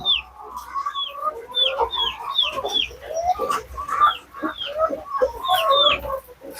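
Hybrid chickens in a large farm cage cluck and squawk in a busy, repeated chorus, with sharp calls layered over softer murmuring clucks, close and moderately loud with no talking.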